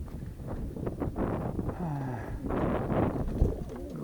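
Pigeons coo softly outdoors in low, burbling calls, with wind gusting over the microphone.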